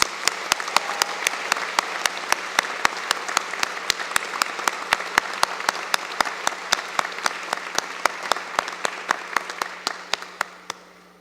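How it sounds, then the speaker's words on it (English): Applause from a convocation audience for student award winners, dense clapping with sharp individual claps standing out, sustained and fairly close before tapering off at the end. "let's have another round of applause for our student award winners"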